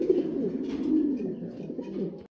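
Domestic pigeons cooing at a farm, a steady close run of low, throaty coos with no talk over them.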